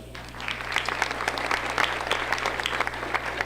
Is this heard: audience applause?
yes